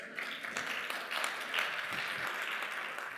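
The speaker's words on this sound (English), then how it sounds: "That should get applause." Audience applause at a live intellectual debate event, a steady, moderately loud wash of many hands clapping that holds evenly from start to finish with no voices over it.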